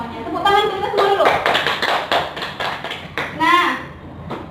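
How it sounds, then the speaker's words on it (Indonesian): Classroom of children clapping together on a teacher's cue during a lesson, a burst of scattered hand claps mixed with voices talking and calling out over it. "Tepuk tangan kita semua dulu."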